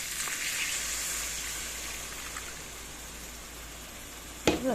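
Coconut milk poured into a sautéed spice mixture sets off a steady hissing sizzle in the pan, close and moderate, ending with a short sharp clatter.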